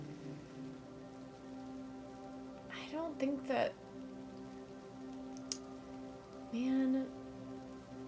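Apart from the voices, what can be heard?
rain in video game Kathy Rain 2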